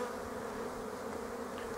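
A dense, steady hum of many honeybees buzzes at an apiary on a March day, continuous and fairly close with no pauses or voices.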